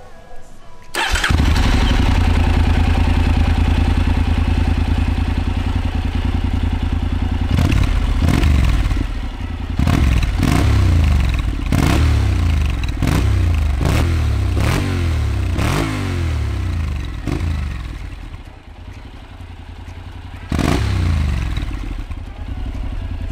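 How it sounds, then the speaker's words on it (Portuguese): A Honda NC750 motorcycle fitted with a LeoVince ONE EVO Carbon exhaust starts and idles with a deep, loud rumble, then revs sharply in a series of about ten blips before settling back to idle. "Agora vamos ouvir o que a gente quer ouvir, que é o barulhinho da moto."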